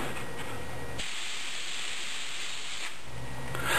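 A steady, loud hiss of spray paint runs for a couple of seconds, starting and stopping abruptly, with no talking.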